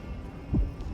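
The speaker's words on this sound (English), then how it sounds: "Finan's heartbeat." A single deep, muffled heartbeat thumps once in Honkai Star Rail, low and soft over a faint hum.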